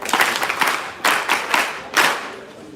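Students at a secondary school gathering applaud in several short bursts of clapping, moderately loud and close, with brief pauses between the bursts.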